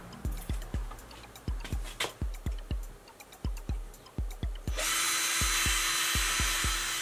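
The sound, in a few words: power drill drilling through metal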